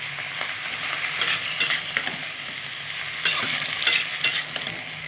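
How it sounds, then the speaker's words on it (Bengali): Steamed cabbage frying in a pan for a Bengali lentil-and-cabbage dish, a steady close sizzle with intermittent scraping stirs and clinks, no talking. "বাঁধাকপিটা ভাজা ভাজা করে নেবো।"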